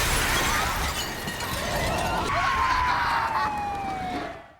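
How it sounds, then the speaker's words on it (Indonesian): A car window smashed in by a monster, a loud burst of shattering glass that continues for several seconds alongside a rising siren-like wail. "monster itu langsung datang dan berhasil memecahkan kaca mobil."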